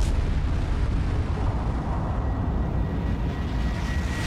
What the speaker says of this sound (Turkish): Büyük patlama.